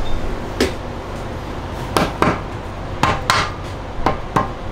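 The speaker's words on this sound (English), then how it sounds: "the transmission down enough to where just tap with the rubber hammer." A rubber hammer taps the case of a 2006 Jeep TJ NSG370 manual transmission that is being split apart in a garage. About eight fairly quiet, dull knocks come at irregular intervals over a low background.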